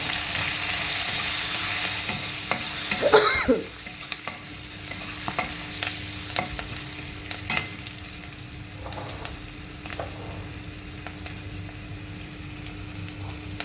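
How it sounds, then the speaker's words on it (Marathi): Salt and turmeric being stirred into a pan with curry leaves, a loud sizzle and scraping stir at first, then quieter sizzling with sparse spoon taps and clinks. "चांगलं हलवून घ्यायचं."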